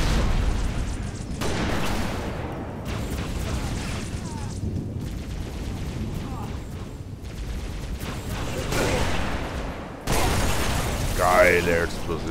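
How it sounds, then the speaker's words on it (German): Booming explosions and rumbling blasts from Halo: Reach game action, with mechanical clatter and a louder burst near the end, under occasional talk. "Geile Explosion."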